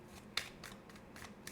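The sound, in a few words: shuffling tarot cards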